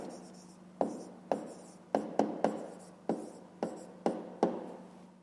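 A pen writes an answer by hand on paper in a fifth-grade math exercise, producing a series of about ten short, sharp scratchy strokes at an uneven rhythm, close and clear, with no talking.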